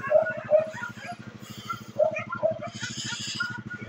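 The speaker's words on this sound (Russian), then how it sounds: "Это собачка, которая 5 дней пролежала в земле." A recovering female dog on a walk whimpers and yips in short high bursts, close by, over a steady low mechanical buzz.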